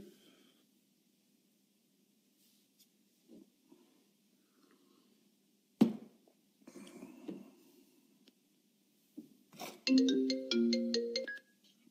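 A phone rings from a hidden number: after a long near-silent stretch with faint rustles and a few thumps, a loud melodic ringtone plays for roughly two seconds near the end.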